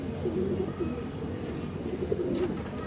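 Pigeons coo in a breeder's loft, soft repeated low rolling calls close by over faint background noise.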